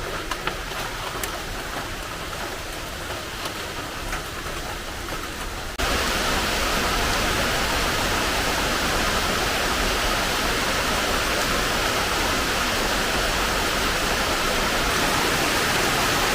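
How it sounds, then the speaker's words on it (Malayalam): Rain falls all around in a continuous, even hiss with no distinct drops. It grows noticeably louder and fuller about a third of the way in, then holds steady with no voices. "ചുറ്റിനും മഴയായിരിക്കും"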